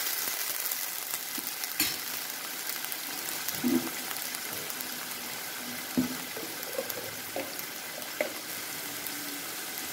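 Whole spices, cardamom and bay leaf, frying in hot oil in a pan for paneer curry: a steady close sizzle with occasional stirring clinks and pops.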